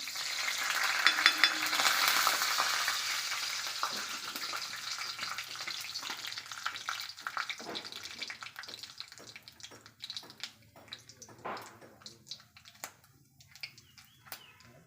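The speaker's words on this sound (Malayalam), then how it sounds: "വെളിച്ചെണ്ണ നന്നായിട്ട് ചൂടാവണം കേട്ടോ കടുക് ഇട്ട് കൊടുക്കാൻ അല്ലെങ്കിൽ കടുക് പൊട്ടൂല ഇനി കടുക് ഇട്ട് കൊടുക്കാം" Mustard seeds dropped into hot coconut oil in a pan for papaya thoran, crackling and popping in a dense sizzle that thins into scattered sharp pops over about fifteen seconds, no talking.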